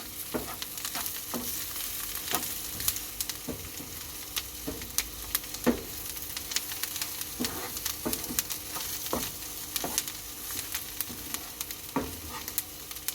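Turkish pickle (Sinop turşu) sizzles as it is sautéed in a pan, with steady frying hiss and frequent utensil scrapes and clicks from stirring, close up and alone.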